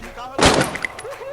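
Gunfire in a battle royale video game: one loud broadband shot burst near the middle, followed by faint game effects, with a quiet voice in the background.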